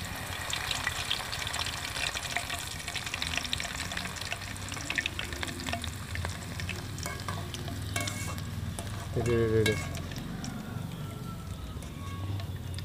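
Kara boondi batter fries in hot oil with a dense, continuous sizzle and crackle, joined by stirring and scraping in the pan and a brief clatter near the end, loud and close.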